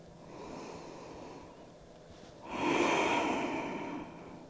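Slow, soft breaths in a quiet yoga session: a gentle inhale, a pause, then a fuller, louder exhale, close and unhurried.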